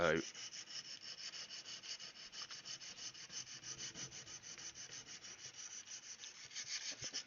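Hand sanding with fresh coarse-grit sandpaper on a P-61C Black Widow model under restoration, a close rhythmic rubbing of steady back-and-forth strokes, fairly quiet and alone.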